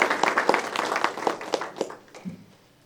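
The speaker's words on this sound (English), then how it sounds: "Please join me in a round of applause to celebrate all student participants." Scattered applause from a small audience at a school science fair awards event, with separate claps that thin out and fade to near silence within a few seconds.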